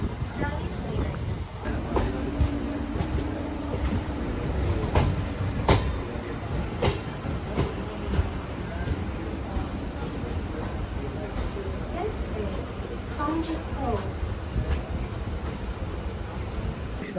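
A Coimbatore-Shornur MEMU passenger train running near Kanjikode station, giving a steady rumble with rhythmic clickety-clack of wheels throughout, heard from on board with people talking in the background.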